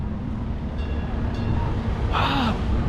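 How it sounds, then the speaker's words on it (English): Small kiddie train ride at Joyland amusement park in Great Yarmouth, a steady rolling rumble with faint squeals and a brief hissing burst near the end. "We have a train."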